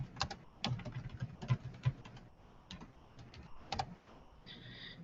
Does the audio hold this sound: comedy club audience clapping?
no